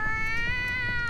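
A cat meows in the Persona 5 Royal video game, one sustained, tonal, drawn-out yowl over a busy game background, loud and close.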